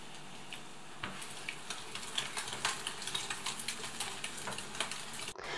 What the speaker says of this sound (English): She also fries carrots and onions